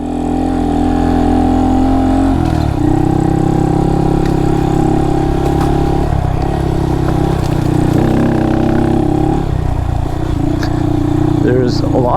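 A Honda Monkey motorcycle riding off-road over rocky, grassy ground on Shinko knobby tires, its engine note loud and close, stepping up and down in pitch as the throttle shifts.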